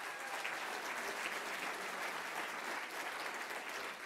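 An awards audience at the Victorian Homelessness Achievement Awards applauds the nominees, a sustained, even roar of many hands clapping, moderately distant and continuous for several seconds with no talking.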